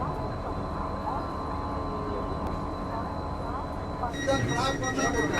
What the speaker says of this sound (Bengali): ট্রেন কিন্তু ছেড়ে দিল মালদা টাউন রেলওয়ে স্টেশন।